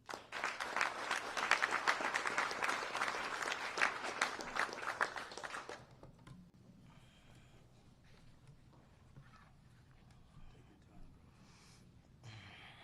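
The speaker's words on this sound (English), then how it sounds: "Clap your hands for Alonzo Waheed." Crowd applause at a rally protesting troops and immigration enforcement in Chicago, loud and dense for about six seconds, then cutting off into quiet room murmur.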